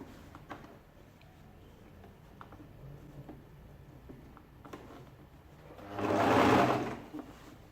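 A sewing machine runs a short burst of stitching on a ladies' shirt dress, a quiet rapid whir rising near the end after faint handling taps and clicks.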